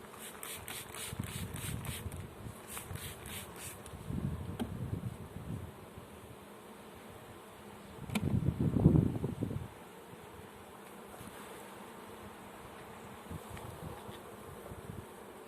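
Honeybees buzz around an open beehive during a hive inspection, a steady low hum with louder swells as bees pass near, plus faint handling knocks and rustles, no talking.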